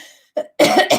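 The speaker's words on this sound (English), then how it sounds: "There is something in my office making me cough and sneeze." A person coughs indoors in an office, a short soft throat sound followed by two loud, close harsh bursts, heard alone.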